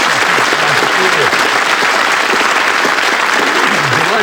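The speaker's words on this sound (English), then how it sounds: "Give this lovely couple a nice round of applause." An audience applauds a couple with a steady, even wash of clapping, while a voice talks over it.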